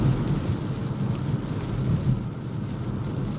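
Steady, heavy rain pours outdoors with a low rumble of thunder underneath, a dense continuous hiss at constant loudness and no voices.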